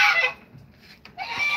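Chickens clucking nearby in two short bursts of bright, squawky fowl calls separated by a quieter pause, with no talking.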